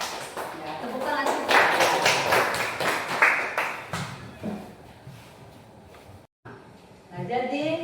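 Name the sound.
applause from a classroom group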